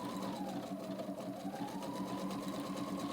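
Sewing machine running steadily without a break, stitching an embroidered scallop edge hem as fabric is guided along, a close, continuous mechanical whir and hum.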